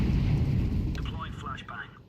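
A grenade blows up in a video game with a heavy rumbling boom that fills the low end and slowly fades, while a voice talks over the tail.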